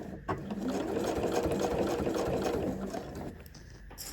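A sewing machine stitching a fabric bag, running steadily and close for several seconds with a continuous whirring buzz before easing off near the end.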